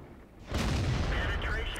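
A tank gun shot in World of Tanks strikes an A20 light tank, a single deep boom that bursts in and rumbles on for over a second, loud and close, with a faint voice.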